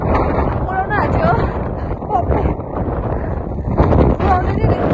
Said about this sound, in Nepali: उडाउँदै नै रहेछ हावाले आँट्छ हामीलाई